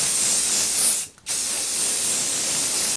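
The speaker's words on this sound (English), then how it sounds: "And just to annoy you Sazzle Pops, my finishing setting spray is hairspray." Hairspray misted on as a makeup setting spray: two steady hissing bursts close by, the first about a second long, a brief pause, then a longer continuous spray of nearly two seconds.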